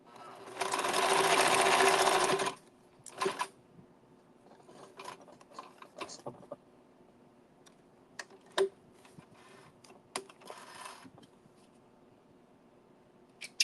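Sewing machine stitching a Halloween paper card, one loud continuous run of stitching for about two seconds, then quiet with scattered clicks and mechanical ticks while a person speaks.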